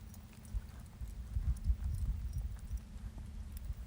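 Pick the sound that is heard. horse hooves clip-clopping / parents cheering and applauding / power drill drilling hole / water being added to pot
horse hooves clip-clopping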